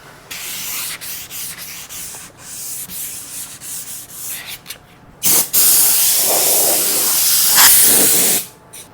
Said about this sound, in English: You're not going to get that unless you do the mid-coat sanding process.